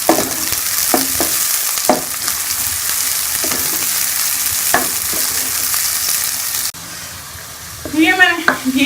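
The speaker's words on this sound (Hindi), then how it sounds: "घी को गर्म करिए, इसके अंदर अब प्याज डाल के इसको ब्राउन कर लूँगी।" Onion browning in hot ghee for lauki kofta sizzles steadily and close up, broken by recurring scrapes and clinks of stirring, with a brief pause in the frying near the end.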